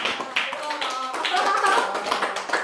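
Middle school students clap loudly during a career-day lecture in a classroom, the quick clapping mixed with excited shouts and voices.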